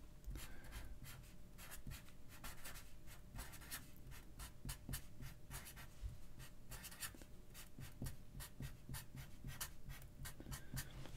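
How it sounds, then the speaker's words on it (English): Pen or pencil scratching across paper in quick, repeated strokes, close and fairly quiet, with a short pause in the middle and no talking. "on your paper, let's go ahead and write that in the middle"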